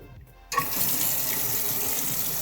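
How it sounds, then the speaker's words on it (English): A hot tap on a Bosch 16P pilot ignition hot water system is opened, and after a short quiet moment water gushes out as a loud, steady, close rush. "open a hot tap."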